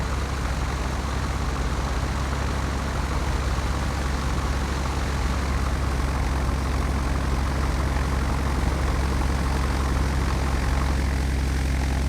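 Douglas DC-3 propeller airliner idling in Microsoft Flight Simulator X, a steady, loud, droning engine rumble with a constant tone throughout.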